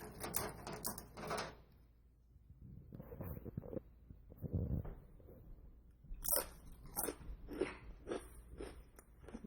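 Crunchy raw vegan corn chips being bitten and chewed, quiet irregular crunches and snaps in short clusters with pauses between, close to the mouth.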